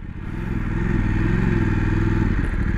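A Voge 900 DSX motorcycle riding along a dirt track, its engine droning loudly and steadily with a low rumble and faint rattling and crunching from the rough ground.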